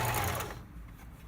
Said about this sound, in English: as you're sewing around this booty edge, you're kind of shoving the top under the sole